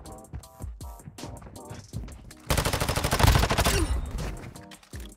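An SMG fires in Warzone Mobile, first in short bursts amid other game sounds, then a long loud sustained rapid burst of automatic fire, with lighter shots trailing off afterward.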